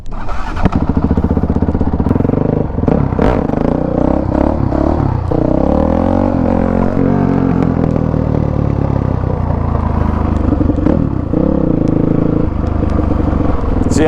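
A supermoto dirt bike with a stock sprocket revs hard and loud during a wheelie on a closed course, its engine rising and falling in pitch with throttle, close and continuous throughout.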